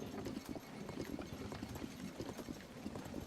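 Horse hooves clip-clop steadily in Zelda: Tears of the Kingdom, a continuous, moderately loud rhythmic trot of game footsteps heard alone without speech.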